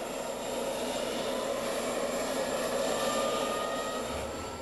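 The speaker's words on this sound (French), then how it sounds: "Un F-27, d'ailleurs, c'est l'avion dans lequel on se trouve actuellement." Constant, droning hum of a Fokker F-27 turboprop airliner's propeller engines heard from inside the cabin, steady and unbroken, with no speech.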